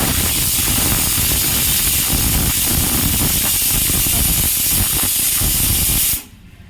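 Raw curry leaves hit hot oil for Andhra sambar, setting off a loud, steady broadband sizzle and hiss that holds for about six seconds before cutting off abruptly.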